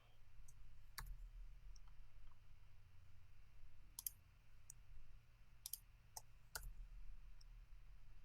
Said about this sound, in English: I'm just pressing either the 1, 2, 3, 4, 5 key on my keyboard to apply these ratings